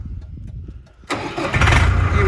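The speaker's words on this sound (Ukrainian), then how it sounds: "В принципі, ми можемо з вами зараз і запускати даний тракторець." A Scout TE504 tractor's engine cranks and catches after a quiet pause, then settles into a loud, rough, steady running rumble close by.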